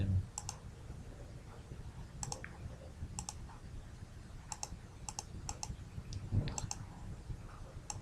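Sharp mouse clicks during drafting work in AutoCAD, quiet and isolated, landing in small irregular clusters of single and double clicks over a faint room hum.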